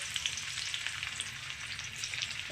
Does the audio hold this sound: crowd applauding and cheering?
no